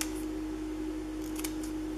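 Scissors cut through scrapbook paper in a couple of quick, faint snips over a steady low hum, with no voices.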